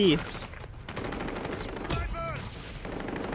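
Rapid bursts of automatic gunfire ring out in a Call of Duty match, interleaved with players shouting excitedly over the shots and other game sounds.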